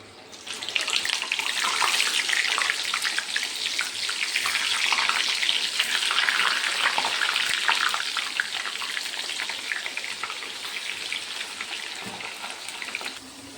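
Potato chips deep-frying in hot oil, a loud, dense bubbling hiss that swells and holds steady at close range, then fades slightly toward the end.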